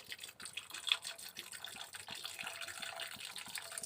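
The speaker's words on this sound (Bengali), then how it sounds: "এই মগে করে একটু জল দিয়ে দিই" Water poured from a mug into a cooking pot in a home kitchen, a soft, uneven splashing pour running steadily at low volume without speech.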